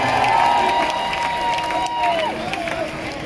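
Outdoor concert crowd at Kew cheering for a drummer, a broad wash of cheers, shouts and whistles from many people, loud and sustained before slowly easing.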